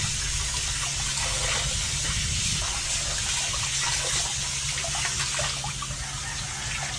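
Water runs from a tap in a loud, constant gushing stream that fills the whole stretch without a break, close by and with no talk over it.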